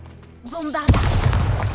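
Loud spell explosion from the Bombarda spell in Hogwarts Legacy, a single heavy boom with a long rumbling tail, preceded by a rising magical charge-up whoosh.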